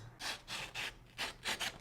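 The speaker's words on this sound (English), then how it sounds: "I'm grinding the chef knife against the scissors to dull the knife" Six rhythmic scraping strokes of a chef knife blade grinding against scissors, each a short harsh rasp, close and fairly quiet, with brief pauses between.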